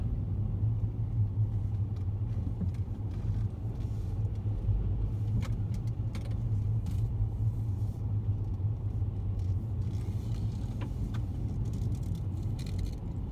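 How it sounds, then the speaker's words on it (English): A car at a gas station during refuelling: a steady low rumble of an idling engine and nearby traffic, continuous and moderately quiet, with faint light clinks and no voices. "I'll get back on here after I get done pumping gas."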